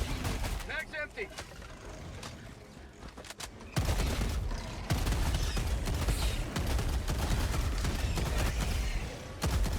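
Incendiary Breaker shotgun blasts from Helldivers 2 boom repeatedly in a dense, chaotic firefight, with loud continuous bursts and rumbling explosions from about four seconds on, layered under game noise and occasional voices.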